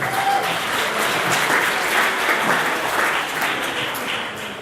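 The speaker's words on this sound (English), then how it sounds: "round of applause, ladies and gentlemen." A crowd at the SAPSA 2018 awards ceremony gives a sustained round of applause, loud, even clapping filling the room for several seconds without letting up.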